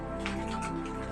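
Steady rain falls on a village, a soft even patter of drops over a continuous low background hum, close and unbroken without any voices.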